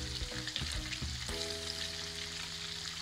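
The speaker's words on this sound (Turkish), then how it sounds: "Nar gibi kızarana kadar kızartacağız iki tarafından." Chicken schnitzel frying in hot oil in a pan: a steady, close, dense sizzle with a few crackling bursts early on, and no talking.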